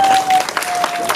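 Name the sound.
audience of women applauding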